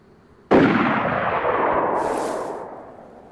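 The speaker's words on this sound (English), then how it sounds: "Hunting rifle, by the sounds of it." A single loud hunting rifle shot in DayZ on the Chiemsee map, a sudden crack that rolls into a long echoing tail fading over about three seconds.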